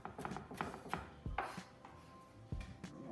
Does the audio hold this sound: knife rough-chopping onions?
yes